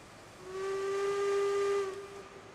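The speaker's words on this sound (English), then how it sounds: "The lonesome whistle sound." A steam locomotive whistle in the train game Railroads Online sounds one long, steady, tonal blast lasting over a second, clear and moderately loud against a quiet hissing background, with no talking.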